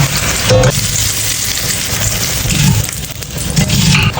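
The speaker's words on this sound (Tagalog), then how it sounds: "mag-scramble lang tayo ng egg and then set aside natin" Egg being scrambled and fried in a pan, a steady loud sizzle throughout with occasional stirring scrapes, close up.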